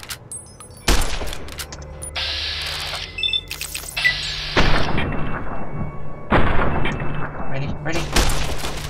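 Gunfire in Fallout: New Vegas: several loud sharp bursts of shots spread across the scene, mixed with thuds and game noise, while a person speaks briefly.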